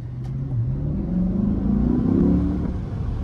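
A Corvette with a V8 turbo engine accelerates, its deep rumbling note rising steadily in pitch as it revs up, loud and close from inside the car with no talk.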